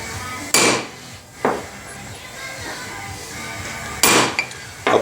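A hammer strikes a socket hard to drive a wheel bearing out of a 2004 Polaris Sportsman 700 EFI ATV, making three or four loud metallic whacks spaced a second or more apart, close up.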